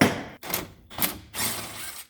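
A hammer strikes the metal wheel hub of a 2012 Subaru Impreza during a wheel bearing replacement, giving sharp ringing clangs spaced unevenly with short gaps between them.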